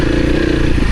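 An off-road motorcycle engine at low speed gives a steady, close, rough drone for about a second, with no talk.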